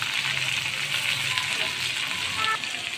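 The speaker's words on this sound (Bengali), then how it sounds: "এই যে আমার মাছগুলা ভাজা হয়ে গেছে, তাই একে একে আমি সবগুলো মাছ আমি এখানে উল্টিয়ে দিচ্ছি" Prawns frying in hot oil in a wok give a continuous close sizzle as they are turned one by one, with faint scraping under the crackle.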